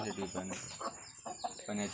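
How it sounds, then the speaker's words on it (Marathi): Pet hens and small chicks cluck and peep close by in a Konkan village yard, with short, repeated calls overlapping in quick succession. "आकाशने कोंबडी पाळलेत छोटे छोटे पिल्ले तुम्हाला दिसतील"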